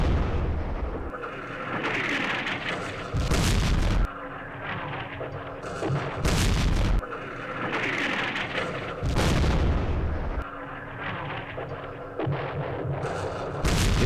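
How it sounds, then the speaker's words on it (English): Artillery barrages from a Vietnam War strategy game set at Dien Bien Phu, heard as loud booming bursts that recur roughly every three seconds, each a heavy broadband blast with a short decay, over a steady low rumble and no talk. "Our artillery is kind of effective this time."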